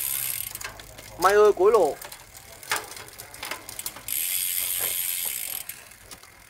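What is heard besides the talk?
Italian Java carbon road bike gears shifting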